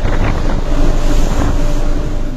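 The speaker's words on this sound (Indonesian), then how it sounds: "Luar biasa, anginnya kenceng banget." Strong wind roars steadily across the deck of the passenger ship KM Nggapulu at sea between Surabaya and Jakarta, a loud, continuous rush of buffeting air with no voices.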